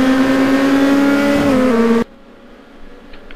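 A Lotus race car in the GTR2 racing game, on the Dubai Club circuit, holds a loud, high engine note that dips slightly, then cuts off abruptly into quiet.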